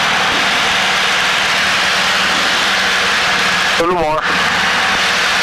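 Small piston aircraft engine drones steadily in flight as the fuel mixture is leaned and it loses RPM, a continuous close cabin hum with a brief voice speaking over it.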